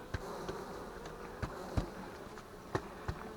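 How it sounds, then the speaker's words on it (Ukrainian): Honeybees drone steadily at a hive in an apiary left untended for two years, a soft continuous buzz broken by a few faint taps. "Вон бджоли."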